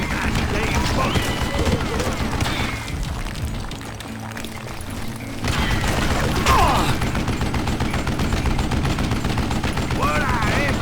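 Gunfire crackles in the Western shooter game Call of Juarez Gunslinger, with repeated loud shots and bursts mixed with game sound effects and a voice shouting over the action.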